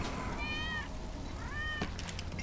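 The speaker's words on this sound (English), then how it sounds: "That's Wedge's cat" In Final Fantasy VII Remake, a cat gives two clear, drawn-out meows at moderate distance, a short pause between them, followed by a light thump over a steady game ambience.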